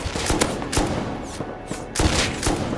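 Rapid bursts of gunfire from the modded survival game Rust, loud and close, several sharp shots in quick clusters with short gaps between them.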